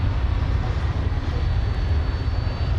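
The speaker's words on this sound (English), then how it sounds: "this Air Transport International 20th Century 767, which was on the move" An Air Transport International Boeing 767 freighter taxis at night at Dallas/Fort Worth Airport, its engines giving off a steady, broad rumble that is heavy in the low end and continuous throughout.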